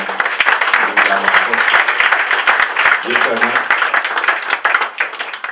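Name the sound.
applause at a political meeting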